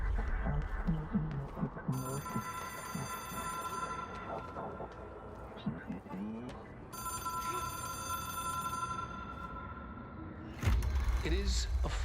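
Telephone ringing in the video game Control, an otherworldly object-of-power phone: two long bursts of bright electronic ringing over a dense, rumbling game ambience, followed by a sudden heavy low thump at the end.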